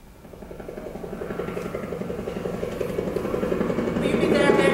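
A helicopter's rotor beats in a rapid, even chop that grows gradually louder as it draws nearer.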